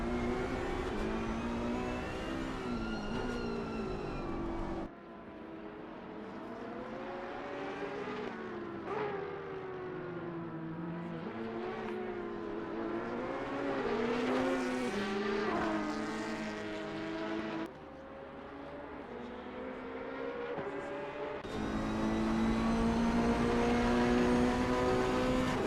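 A Ferrari race car in a sim racing game at Barcelona howls through its gears, with rising and falling engine pitch, sharp shift breaks and changes of camera. The sound is loud and continuous, with no talk.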